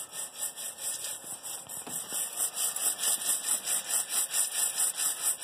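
Popcorn popper whirring steadily as it spins and roasts coffee beans outdoors, a continuous high airy hiss with a soft rhythmic pulsing throughout, close and fairly loud, no talking.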